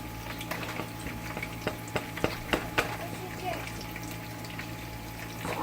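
A spoon stirs an attiéké and fish mixture, giving a series of soft, irregular scrapes and moist clicks against the bowl over steady background hum.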